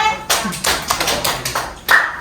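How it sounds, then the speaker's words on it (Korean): A classroom of students claps together on a teacher's cue, a series of sharp, close hand claps in an uneven rhythm lasting about two seconds. "역사 집중의 박수를!"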